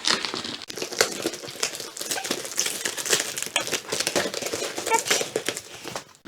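Parcel packaging from a Schleich delivery crinkles and tears in a busy run of sharp crackles and rustles, close and fairly loud, continuing without pause as the taped box is opened.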